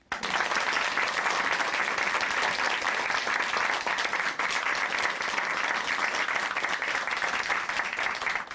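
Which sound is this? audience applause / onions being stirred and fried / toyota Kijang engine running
audience applause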